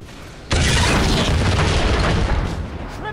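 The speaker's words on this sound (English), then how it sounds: "Go boom." Explosion in the XCOM tactical video game: a sudden loud boom bursts in after a short lead-in and then rumbles on as a broad, sustained blast roar for the rest of the moment.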